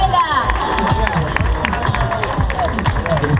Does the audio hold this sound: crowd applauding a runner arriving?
yes